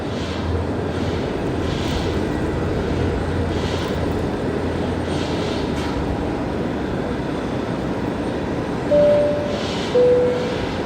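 An aircraft engine spools up at Brisbane Airport at night, a broad steady roar with rumbling low end that holds throughout. Two short higher tones break in near the end.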